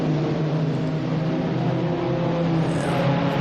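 A race car engine at full throttle in a sim racing game holds a steady, loud, high drone with a constant pitch, heard alone with no voices.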